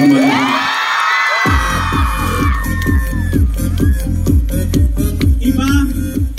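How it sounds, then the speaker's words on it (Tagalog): A crowd at a comedy show in Benguet cheers loudly with whoops and high shouts over a steady, pounding rhythmic thump, the noise staying dense and close throughout. "Deserve ni Kong Eric ng palakpak na may kasamang hiyaw"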